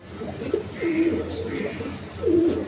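A pair of domestic pigeons coo in soft, rolling calls, three or so low phrases close by over steady background hum.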